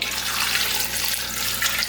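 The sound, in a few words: tap water poured into a pot of potatoes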